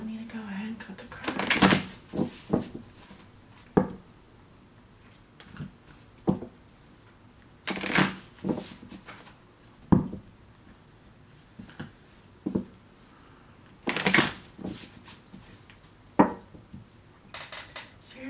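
Tarot cards being shuffled and cut for a Leo reading, heard as a run of sharp riffling and slapping bursts at irregular intervals, fairly close and distinct against a quiet room, with no talk over them.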